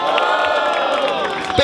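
Crowd at an outdoor freestyle rap battle in São Gonçalo, Brazil, cheering, whooping and shouting for an MC, a dense, loud, continuous roar of many voices.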